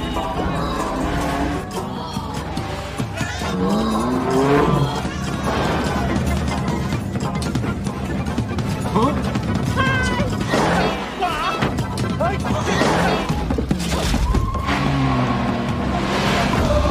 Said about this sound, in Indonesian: Saat mobil nyala, mereka bertiga kemudian bergegas tancap gas ngelanjutin balapan